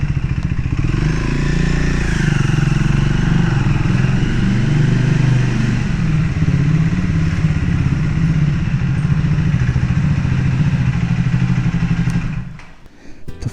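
A Triumph Speed 400 motorcycle engine runs steadily at close range, a loud continuous throbbing idle with mechanical clatter that holds for about twelve seconds before cutting off abruptly.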